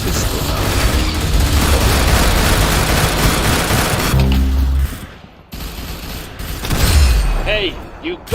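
Dense gunfire from a pistol in a video game, a loud rapid barrage of shots that breaks off mid-clip and returns with a few more reports under a voice.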